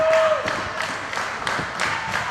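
A wrestling crowd at a women's extreme wrestling match roars and claps steadily for Jenny Rose, a dense, continuous wash of cheering and applause with rhythmic surges of clapping.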